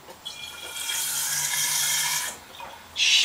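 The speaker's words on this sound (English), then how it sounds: "When you've done that two or three times, rinse the machine out with water." Water rushing through an Atomic coffee machine during rinsing after cleaning, a steady running flow for about two seconds that drops off briefly, then surges again loudly.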